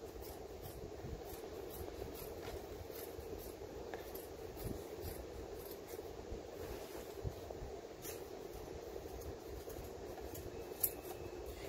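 Scissors trimming excess felt on a pressing board: a soft, steady run of close snipping and rubbing, faint and continuous, with no voices.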